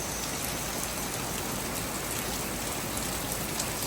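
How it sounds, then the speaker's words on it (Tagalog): Heavy rain pours steadily onto surfaces at a dense, even roar throughout, with no breaks and no talking. "Guys, grabe yung ulan,"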